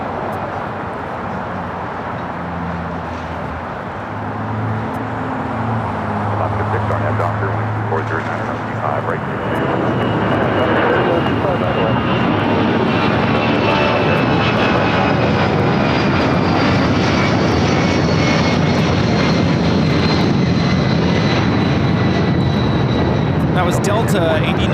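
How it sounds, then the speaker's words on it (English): Delta Boeing 757-200 jet on its takeoff roll at LAX, a loud roaring engine wash that builds and then holds steady and broad, with a high whine running on top. Faint talk sits beneath it. "That was Delta 8949 taking off to San Jose, California on the 757-200."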